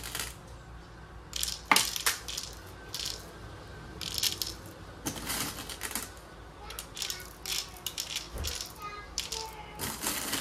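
Small 4.5mm steel BBs rattle and clink as they are loaded into a Crosman AK1 semi- and full-auto blowback airgun, in irregular bursts of sharp metallic clatter, close and fairly quiet.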